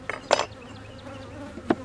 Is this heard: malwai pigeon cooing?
no